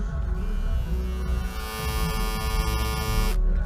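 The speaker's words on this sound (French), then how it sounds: "Donc là, c'est le rasoir à couilles de mon petit frère." An electric groin trimmer runs with a steady, loud, close buzz and a droning hum throughout, with no talking.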